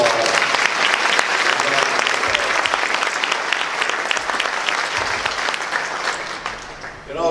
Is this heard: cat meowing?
no